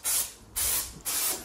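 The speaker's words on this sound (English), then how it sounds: "spray it with the multi-solve, just a light dusting over the full length" Three short bursts of multi-solve spray hiss in an even rhythm as a light mist is dusted over a length of bath sealant, close and with no voices.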